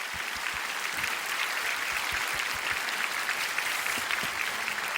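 A congregation at a prayer gathering breaks into applause, a steady and fairly distant roar of many hands clapping that holds even throughout with no speech over it.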